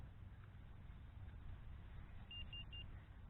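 A Xiaomi Fimi A3 drone controller gives a quick run of three short, faint beeps after calibration, set over a low rumbling background.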